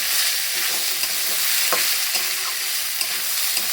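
Rice frying with turmeric in a pan, a steady close sizzle with soft stirring scrapes and a few brief clinks, no voices.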